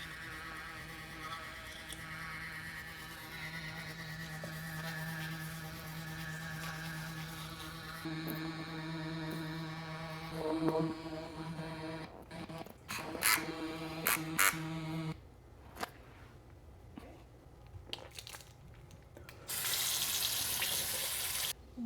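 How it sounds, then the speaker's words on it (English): A Soocas NEOS II electric toothbrush, a combined toothbrush and water flosser, brushes teeth with a faint, steady motor buzz that shifts in tone partway through, followed by wet splashing sounds. "let's go ahead and brush our teeth"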